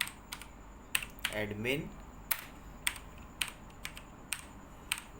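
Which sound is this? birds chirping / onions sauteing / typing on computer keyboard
typing on computer keyboard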